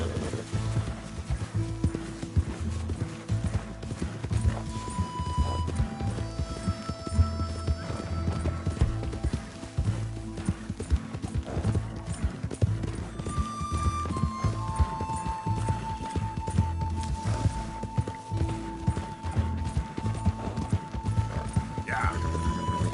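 In Red Dead Redemption 2, a horse's hooves clip-clop steadily at a walk while it whinnies, with game characters talking throughout and faint ambient tones.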